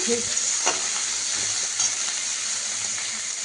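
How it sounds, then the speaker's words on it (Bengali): Onion frying in a pan while a chicken curry is cooked, a loud, steady hiss of oil with a few soft stirring scrapes, close up and free of speech. "পেঁয়াজ দিয়ে দেওয়া হয়ে গেলে একটু পাক দিয়ে আসবে"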